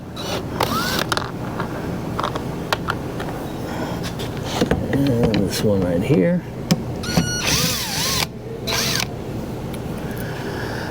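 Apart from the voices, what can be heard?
electric drill driving out screws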